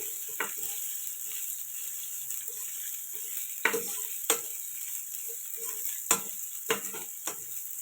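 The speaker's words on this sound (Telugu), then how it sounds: "కాజు కూడా లైట్గా ఫ్రై అవుతున్నాయండి" Cashews fry lightly in a pan for chicken biryani with a soft, steady background sizzle. A few sharp clinks and scrapes of stirring break through at irregular intervals, with no voices.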